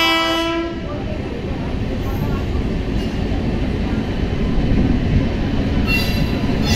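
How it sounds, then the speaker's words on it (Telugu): A train of the Tirumala Express pulling into Gooty Junction railway station, a loud sustained rumble with a horn blast at the start and brief higher tones near the end. "ట్రైన్ గుత్తి జంక్షన్ రైల్వే స్టేషన్కి అయితే ఎంటర్ అవుతుంది"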